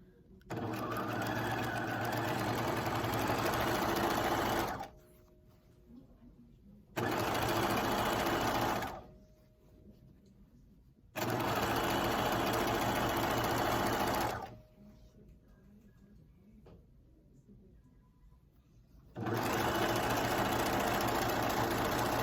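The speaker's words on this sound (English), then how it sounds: "So we're going to go ahead and stitch those together" An electric sewing machine stitches skirt pieces together in long, loud, steady runs of rapid whirring, broken by pauses in which a voice talks quietly between seams.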